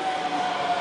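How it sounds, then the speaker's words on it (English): The Nakamozu Express train pulls into a Japanese station with a steady, close rumble and a thin sustained whine throughout. "And there it is. There's our train. Nakamozu Express,"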